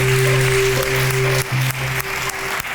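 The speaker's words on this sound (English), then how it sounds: "We should give him a little round of applause" An audience at a World Science Festival talk claps briefly in a steady, dense patter, with a low electrical hum running underneath and no voices.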